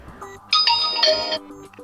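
A short electronic notification ringtone from a Vivo Y52 5G phone chimes brightly for about a second, with bright layered tones, then fades into quiet.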